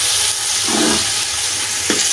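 Tomatoes stirred and fried in a pan for a village-style chana aloo biryani, a steady close sizzle with a brief scraping stir partway through and a short clink near the end.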